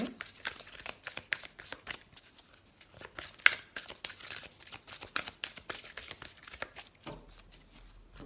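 Oracle cards of the angels being shuffled by hand, a soft, steady run of quiet papery riffles and flicks with brief pauses, close and alone with no talk.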